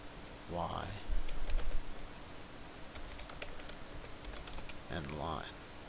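A computer keyboard clacks in a quiet run of scattered keystrokes, with a person speaking briefly at the start and the end.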